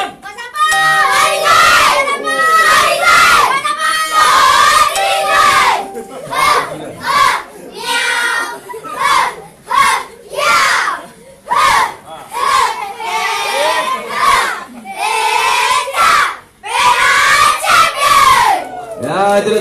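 Children's teams at a badminton talent camp closing ceremony in Perak shout their team tagline in unison, loud, close bursts of massed young voices with cheering, rising and falling in repeated waves.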